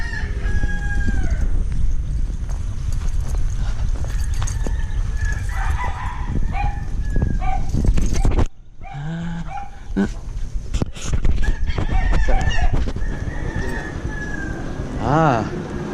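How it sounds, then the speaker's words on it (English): Fighting roosters crow repeatedly from close by and farther off on a farm in the Philippines, with a dog barking and people talking nearby in the background. "Oh, you have a rooster farm also."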